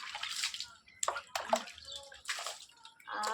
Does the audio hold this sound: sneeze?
no